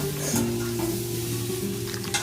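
Onion stalk fritters sizzle steadily in hot oil in a home kitchen while being stirred, with a low hum running underneath and no speech.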